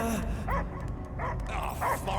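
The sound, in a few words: dog Cosmo barking in video game Guardians of the Galaxy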